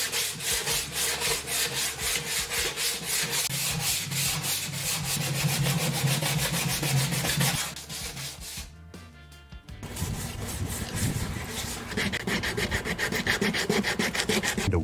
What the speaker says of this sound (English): he moved over to the tank. Or giving it some hard scrubbing, sanding,